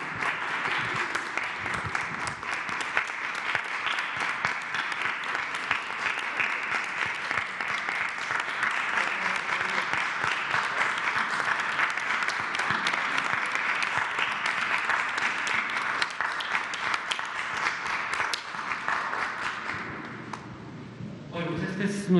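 Sustained applause from many people as a daily 6:30 tribute of thanks to workers, steady dense clapping lasting over twenty seconds before tapering slightly at the end.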